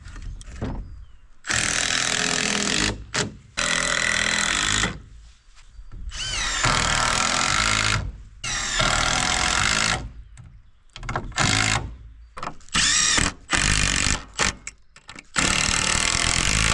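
A red Makita power drill drives screws on an old post office building roof, running in repeated loud bursts of several seconds each, separated by short silences, close by and with no talk.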